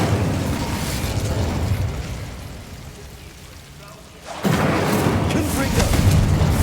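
An Incendio fire spell cast in the game Hogwarts Legacy: a dense roaring whoosh, loud and close, dips briefly and then bursts back even stronger, with a voice speaking over it.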